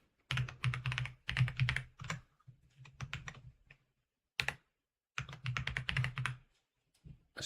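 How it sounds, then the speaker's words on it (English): Fast bursts of typing on a compact computer keyboard, close and crisp, with rapid key clatter in several runs separated by brief pauses. "I still need to get the muscle memory of the compact keyboard though."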